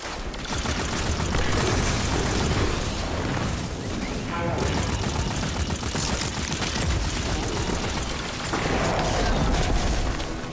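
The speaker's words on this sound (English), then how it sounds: "Where did that explosion come from?" Dense, loud explosions and gunfire boom continuously through a chaotic battle in the video game Destiny 2, with heavy blasts layered over rapid firing and no quiet moments.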